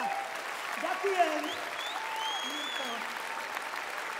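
An audience at the Bratislava Lyre poetry festival applauds steadily throughout, a dense continuous clapping while a presenter speaks over it.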